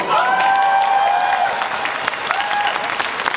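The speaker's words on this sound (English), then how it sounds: "I think that deserves a round of applause." A large convention crowd at a Comic-Con panel applauds and cheers, with loud, sustained clapping and faint whoops and tones rising over it.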